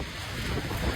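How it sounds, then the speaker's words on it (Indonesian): A strong whirlwind gusts through Tarutung, a storm that damaged dozens of houses and sent roofs flying. A steady, loud roar of wind buffets the microphone with no break. "Angin puting beliung, woi."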